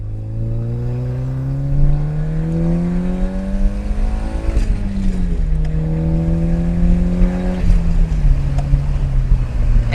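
A Nissan S13 Silvia fitted with upgraded ignition coil packs drives steadily, its engine note rising and falling through the gears with a smooth, continuous drone heard from inside the car and no talking.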